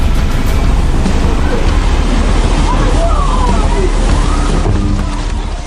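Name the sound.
tsunami wave crashing ashore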